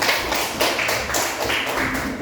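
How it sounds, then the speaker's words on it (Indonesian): Schoolchildren in a classroom clapping for their classmates after a presentation, a short burst of brisk, fairly loud group clapping with a few pulsing swells and no talk over it. "Tepuk tangan dulu buat teman-teman."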